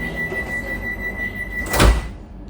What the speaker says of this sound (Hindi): दरवाजे बंद हो रहे हैं।